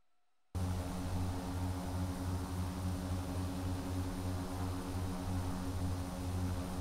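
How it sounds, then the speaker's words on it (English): A Boeing 787 engine powering down in the X-Plane 11 flight simulator cuts in abruptly after brief silence. It then holds a steady, humming turbine drone with layered tones and airy hiss at a moderate level, with no talking. "the sound of powering down the engine"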